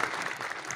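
Audience at a Hindi poetry gathering (kavi sammelan) applauds: a brief, steady wash of clapping from a crowd, moderately distant and even throughout.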